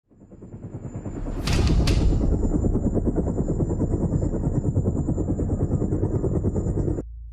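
A loud helicopter with steady, rapid rotor chopping close by, building up at the start and droning on continuously.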